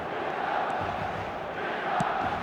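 Stadium crowd noise in the eFootball video game, a dense, steady roar of many voices that stays even throughout, like a full ground heard from the pitch.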